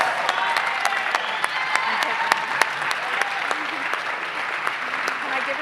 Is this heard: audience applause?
yes